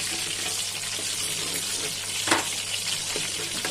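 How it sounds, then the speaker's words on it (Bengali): Pangas fish pieces frying crisply in a pan of oil, a steady dense sizzle that holds at a constant level throughout, close and alone with no talk. "কড়কড়া করে ভাজছি।"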